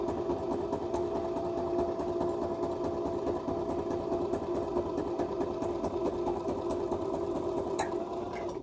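A sewing machine stitches a line through paper for a handmade booklet, running in a steady, continuous mechanical hum and rapid needle chatter close by, with a few faint ticks near the end before it stops.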